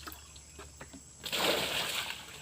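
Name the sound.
water splashing while bailing a farm well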